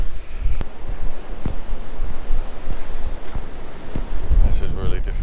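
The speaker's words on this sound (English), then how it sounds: "This is really difficult doing this in the wind." Strong wind buffets an open hillside near the Belas Knap long barrow, a steady loud roar with gusty rumble and microphone buffeting throughout, with a few faint clicks and a brief stir near the end.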